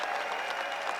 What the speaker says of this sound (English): we should all applaud him